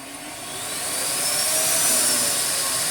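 A 2100-watt vacuum cleaner runs with a loud, steady broadband whoosh that swells slightly in the first second and then holds, close and continuous with no talk.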